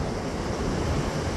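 Ocean surf rolls in steadily at Rosarito Beach, Mexico, a continuous loud wash of breaking waves mixed with wind rumble against the microphone, with no voices.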